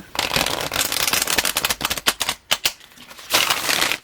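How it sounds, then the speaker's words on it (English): Fast, crackling tarot card shuffling with a sharp snap, repeated in dense riffles close up, pausing briefly before a final burst. "As you can hear, they have a lot of snap to them, so I won't be shuffling them"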